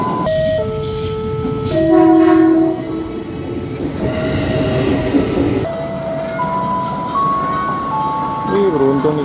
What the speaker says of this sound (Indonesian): beruntung nih kita dapat kereta ini